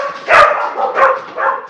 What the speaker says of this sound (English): Okay, stop barking. I've got like hounds.